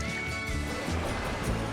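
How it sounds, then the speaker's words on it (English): Steady rushing water of a trout stream riffle runs close and continuous, a broad wash with no pauses, heard near the edge of wadeable moving water. "We got some pretty good moving water right here"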